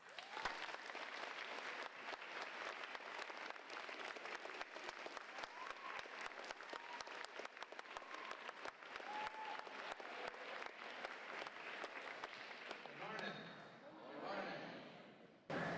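An audience welcoming astronaut Fred Haise with sustained, dense applause that fills the room, then fades near the end before a sound at the very close.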